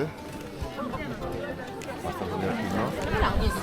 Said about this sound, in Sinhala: මොකද මේ බලන්න සෙනග